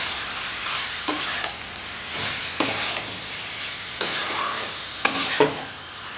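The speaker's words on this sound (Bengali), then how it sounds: "জিরে গুঁড়ো দিলাম, দিয়ে একটু কষে নেব।" Spices with cumin powder and salt being sautéed in a pan for coconut chicken: a soft frying hiss broken by several scraping spatula strokes at a steady pace, close by, with no voices.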